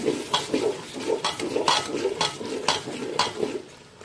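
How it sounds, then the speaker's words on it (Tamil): Chicken biryani masala with coriander and mint gets stirred in a pot, a spoon scraping in regular strokes about twice a second, close and clear with no voices. "இதை நல்லா மிக்ஸ் பண்ணி விட்டுக்கோங்க"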